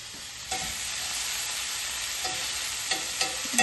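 Shrimp frying in a cast iron pan, a steady close sizzle broken by a few sharp knocks and scrapes as the pieces are turned.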